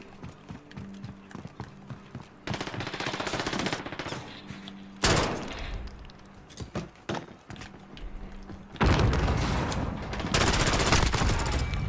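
Machine gun fire in Modern Warfare comes in several loud bursts separated by short pauses, the rapid shots loud and close, with quieter rattling between the bursts.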